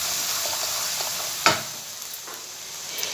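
Spices frying in a pan for dal makhani, a steady broadband sizzle with one sharp clatter near the middle and a few faint scrapes, no voices.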